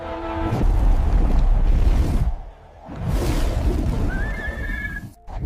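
A horse lets out loud, close whinnies over a rushing, whooshing background, with a shrill rising neigh near the end before a sudden break.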